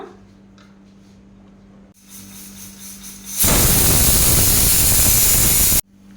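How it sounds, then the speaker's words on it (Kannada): A pressure cooker cooking kidney beans for rajma masala lets out a loud, steady hissing whistle of escaping steam lasting a couple of seconds, preceded by quieter kitchen noise and cut off abruptly. "ಈಗ ಇದರ ಮುಚ್ಚಳವನ್ನು ಮುಚ್ಚಿ 6 ವಿಸಿಲನ್ನು ತೆಗೆದುಕೊಳ್ಳೋಣ"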